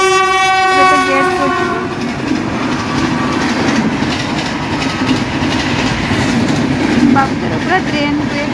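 A train passes close by, blowing its horn at the start, then a loud rumbling clatter of wagons rolling continuously past, with faint voices in the background.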